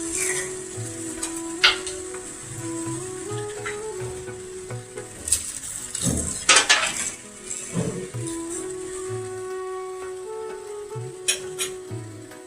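Crushed bori is stirred into niramish mocha dalna (banana flower curry) in a sizzling pan, a steady fry hiss under intermittent scraping and clinking from the spoon, close and moderately loud.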